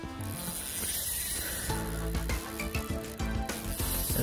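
A fishing reel's drag clicks as a striped bass hooked on a lipless crankbait runs in a California aqueduct, a rapid ratcheting buzz that grows steady and close, pulsing through the second half.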